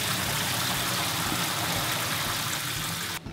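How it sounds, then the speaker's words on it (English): Water poured through colanders and a kosher screen, a steady, full rushing splash running without a break before stopping abruptly at the end. "Rabbi Brogdon's gonna pour the water through the colanders"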